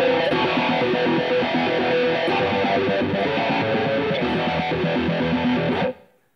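Thick electric guitar chords washed in swirling, pulsing modulation effects synced to the song's tempo in Guitar Rig, sustained and fairly loud, ending in a quick fade to silence.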